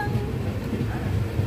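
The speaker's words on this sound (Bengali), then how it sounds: "বর্ধমান আসছে ট্রেন, তাই স্লো হয়ে গেছে।" Passenger train slowing as it approaches Burdwan station, heard from inside: a steady low rumble with faint rhythmic wheel clatter, continuous and close, no talk.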